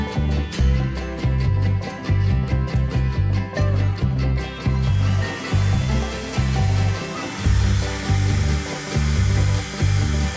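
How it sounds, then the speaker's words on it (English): A hair dryer blows continuously to shrink seal bands onto the necks of hot sauce bottles, its loud airy whir pulsing slightly as it moves, close up and without speech. "We use a hairdryer to shrink the bands onto the neck of the bottle, sealing the top."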